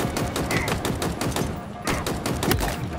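Gunfire in the Halo Infinite campaign, a rapid, continuous fusillade of loud shots with heavy thumps and impacts, steady throughout with no clear talk.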